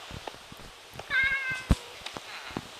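A single short cat meow in Minecraft rings out clearly amid scattered clicks and taps, fairly close and moderate in volume.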